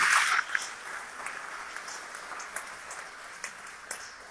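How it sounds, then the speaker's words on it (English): Applause at a vegan awards event starts with a brief louder burst and then settles into a light, sparse patter of claps that fades toward the end. "So let's have one more round of applause."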